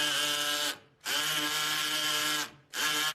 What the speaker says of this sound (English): And the drilling.